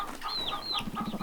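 Chickens on a homestead, a mix of big hens and young birds still carrying baby fuzz, cluck and call softly in a short close burst of chatter with no talking.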